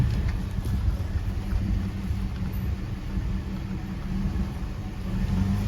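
A pickup truck towing a trailer creeps slowly along a wooded track past an old camp, its engine a steady low rumble with a rattling drone close by and no talk over it.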